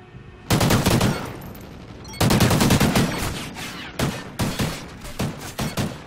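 Video game gunfire in a match, loud close bursts of rapid automatic fire in three main volleys, then shorter separate shots and quick bursts toward the end, without talk.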